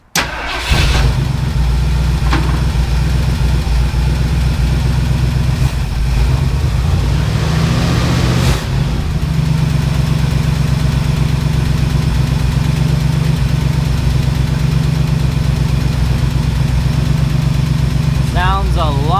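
A Ford Bronco's 351M V8 cranks and fires up, then settles into a loud, steady, rumbling idle that runs on close by for nearly twenty seconds, with a brief rev partway through.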